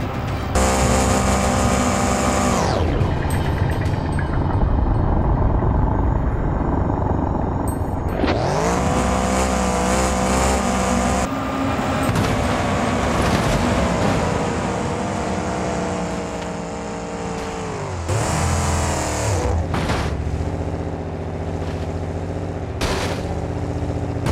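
Delivery vehicles race around a track in BeamNG, engines roaring and revving loudly with shifting pitch as they accelerate, a brief lull early on, then sustained close engine noise throughout.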